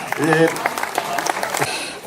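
Audience applause at a tourist song festival on a campsite by the Pilica river in Warka, brief and fairly steady clapping with a voice talking over it.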